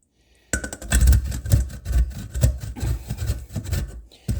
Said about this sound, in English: so I am using the large grater